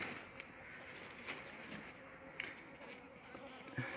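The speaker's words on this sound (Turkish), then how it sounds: "şu an sağdaki kovanı açıyorum" Bees buzz as a beehive is opened, a continuous, faint, close swarm drone with a few brief knocks and rustles over it.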